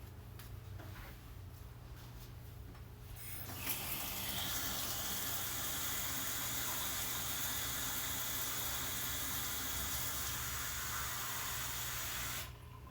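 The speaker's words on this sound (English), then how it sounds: "I'm going to actually get some water in here before we try and add it to the quads." Water poured steadily into a bag of dry potting soil while setting up a Brassica rapa planting, a continuous close hissing splash that starts after a few seconds of quiet room noise and runs unbroken before stopping abruptly.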